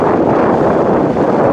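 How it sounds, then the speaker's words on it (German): Strong outdoor wind buffeting an uncovered microphone on a cycling tour in Waren (Müritz) in poor weather, a loud, constant low roar with no pauses. "dann hört man auch den Wind, glaube ich."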